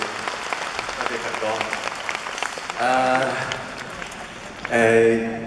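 Concert crowd applauding the band at a Cantopop show, a broad wash of clapping that swells in bursts while someone speaks over the PA.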